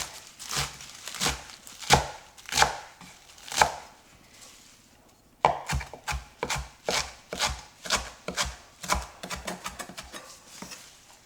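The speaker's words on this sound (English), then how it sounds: "then you're going to chop it up real fine" A knife chopping fresh cilantro leaves on a board, with quick rhythmic cuts in two bursts separated by a brief pause, close and crisp.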